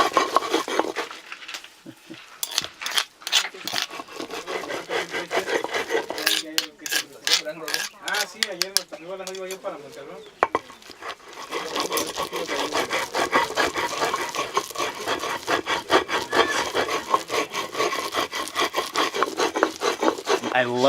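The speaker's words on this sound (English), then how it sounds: "I love the sound of that rock on rock, but then with the squishing sound of those chilies in between the rocks." Dried chilies ground between stones on a metate for mole negro in a Oaxaca village: a gritty rock-on-rock scraping in repeated rubbing strokes with soft squishing, close and continuous.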